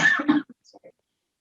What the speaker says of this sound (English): I apologize for the cough, everyone.